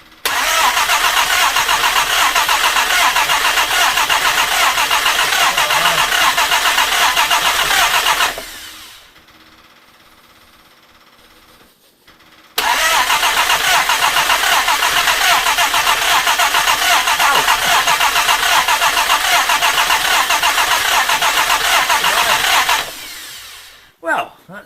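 A Jaguar E-Type from a 2+2 restoration cranks and tries to start, a long loud rough churning run, a pause of several seconds, then another sustained cranking burst ending abruptly, with voices briefly nearby.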